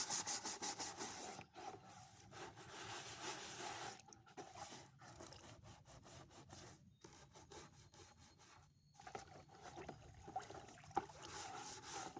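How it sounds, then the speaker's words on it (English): A scrub brush rubs back and forth over the bottom and sides of a trash can during spring cleaning, a close, rhythmic rasping scrub broken by a few brief pauses. "I'm going to go ahead and try to scrub the bottom of the cans and the sides."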